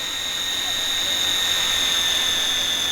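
An RC plane flies in the RealFlight Evolution simulator game, its engine a steady high-pitched whine that holds constant throughout with no other sounds.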